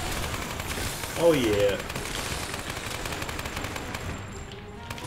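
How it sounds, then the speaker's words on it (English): A machine gun fires in the Lara Croft and the Temple of Osiris video game, giving a continuous rattling stream of shots under game sounds, with a short exclamation from a player. "Machine gun."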